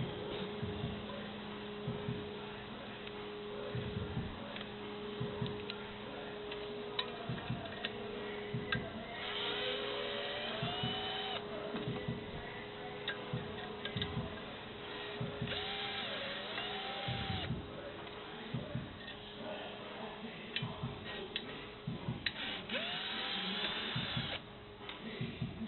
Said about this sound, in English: just using the drill to get them out